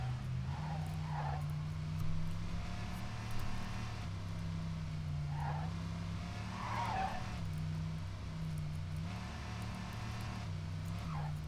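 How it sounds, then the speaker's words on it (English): Tires screeching in a racing video game with supercars, several drawn-out squeals rising over a steady engine drone, recurring in bursts every few seconds at moderate loudness, with no talking. "the tire screeching sound effects in this game are stock sound effects"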